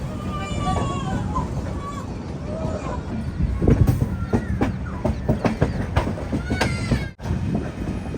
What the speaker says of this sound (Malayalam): നിലവിൽ ഇന്ത്യയിലെ ഇത് ഏറ്റവും പവർഫുൾ ലോക്കോ WAG-12.